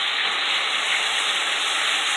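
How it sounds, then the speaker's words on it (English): Pork frying in hot oil for chop suey gives a loud, steady, unbroken sizzle with no pauses. "I just started frying up some pork here."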